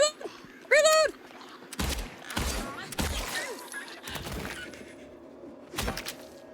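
Gunshots in the video game Silent Hill 2 Remake: several loud, separate shots with echoing tails, mixed with a creature's shrieks. A voice talks between some of the shots.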